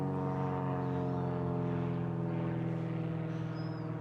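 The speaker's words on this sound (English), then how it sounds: "Sorry, there's a plane." A plane drones steadily overhead, a low tonal hum that stays faint and even throughout with no other sound.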